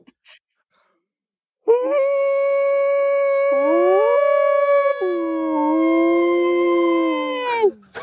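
A person imitates a dog's howl, holding one long, loud, wavering tone for about six seconds with pitch slides up and down, after faint brief sounds in near silence.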